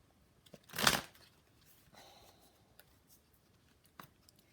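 A quick riffle of shuffled tarot cards, close and quiet, followed by a few faint soft card slides and taps in a calm room.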